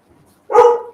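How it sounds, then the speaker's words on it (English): A single close, loud dog bark, brief and sharp, preceded by faint low background noise. "I don't know if you can hear the dog barking, but Mickey's playing with the dog."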